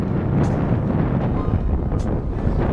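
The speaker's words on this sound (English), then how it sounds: "Wind's getting really bad." Strong wind buffeting the microphone during a fishing outing, a loud continuous low rumble with gusty surges and no talk.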